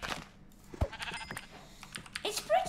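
Sheep bleating in the Minecraft video game, a short nasal call near the end over faint clicking and a quiet voice.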